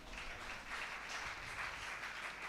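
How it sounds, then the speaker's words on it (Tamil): A church congregation at IPC Annanagar claps together in a sustained, fairly faint wash of applause that holds steady throughout. "கைத்தட்டலாமே."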